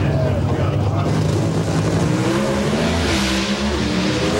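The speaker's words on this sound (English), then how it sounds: "did you see the car launch?" A Top Fuel dragster at the 2005 NHRA U.S. Nationals qualifying launches with a loud, continuous engine roar that stays steady and close throughout, with commentary voices talking over it.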